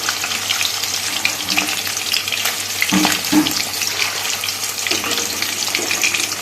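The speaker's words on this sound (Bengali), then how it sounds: "একদম হালকা করে উল্টে পাল্টে একটু ভেজে নিতে হবে" Hilsa fish pieces frying in hot oil in a pan, a steady loud sizzle and crackle throughout with a few brief clinks of turning the fish.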